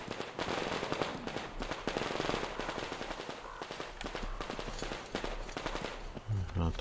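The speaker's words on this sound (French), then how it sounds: "J'entends des coups de feu." Rapid bursts of gunfire in the video game Metro Exodus crackle almost nonstop, with sharp repeated shots layered over a steady low rumble, loud and close.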